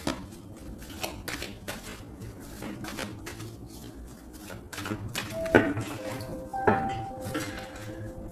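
A deck of tarot cards being cut by hand, giving soft papery shuffles and taps over a low background hum, with a couple of brighter clinks partway through and no talk.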